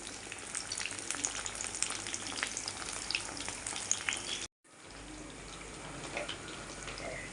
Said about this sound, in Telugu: నేను కొంచెం నూనె పెట్టుకుని చిన్న చిన్న వాయిలు వేసుకుంటాను